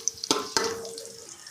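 Onions with ginger and garlic fry in a pan as a spoon stirs them, giving two quick scraping clatters over a soft sizzle.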